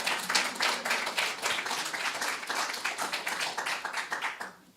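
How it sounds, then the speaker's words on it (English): A congregation applauds singers after a performance, with steady, dense clapping at moderate distance that tapers off at the close. "Let's give them another round of applause."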